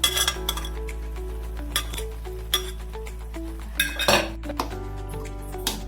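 Mashed vegetables for pav bhaji being mixed with a little water in a metal pressure cooker, with repeated clinks and scrapes of a spoon against the pot, close and fairly loud, over a steady low hum.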